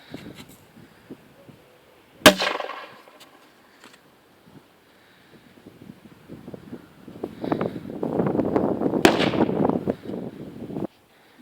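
A single sharp blast from an airsoft grenade launcher rings out near the start during military training, followed by rustling and a burst of broadband noise and shuffling later on.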